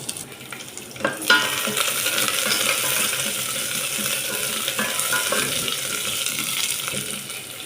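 Cumin, curry leaves and garlic sizzle steadily in hot oil while being stirred in a pan, a dense close frying crackle with a scraping stir near the start and no talking.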